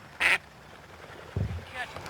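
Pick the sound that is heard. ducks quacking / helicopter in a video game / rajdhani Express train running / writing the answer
ducks quacking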